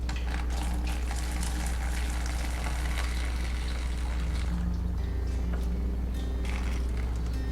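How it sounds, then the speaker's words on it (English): Water from settled cornstarch being poured off into a sink, a steady close splashing pour running the whole time over a low background hum, with no talking. "So what I'm gonna do is discard the top, which is just the water part."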